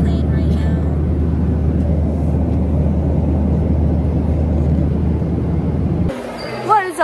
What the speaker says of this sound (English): We're on the plane right now.